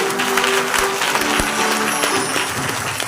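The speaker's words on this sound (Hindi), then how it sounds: "कितनों का समझ आ गया? ताली बजा के बताइए" A church congregation claps together at a pastor's request, a loud, dense burst of hand clapping filling the room throughout, with a faint steady hum underneath.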